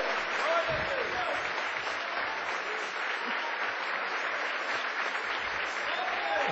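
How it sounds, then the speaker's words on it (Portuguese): Audience applause rolls on steadily for several seconds, a continuous, moderately loud wash of clapping with faint voices mixed in. "vamos aplaudir a Jesus"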